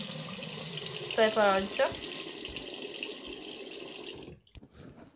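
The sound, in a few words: water running from a tap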